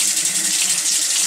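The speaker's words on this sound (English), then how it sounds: "just wash these in the sink" Squash flowers washed under a running kitchen sink tap, a loud steady gush of water close by throughout, with no talking.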